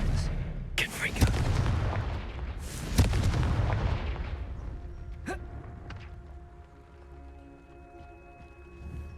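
A Confringo spell blast in the Hogwarts Legacy game, sharp explosive bursts around one and three seconds, each followed by a rumbling decay, with a softer crack later and a lingering tonal hum.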